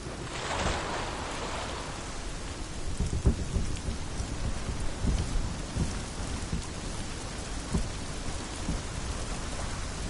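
Steady rain patters on surfaces with rolling thunder rumbling underneath, a constant wash of noise broken by low booms, heard alone.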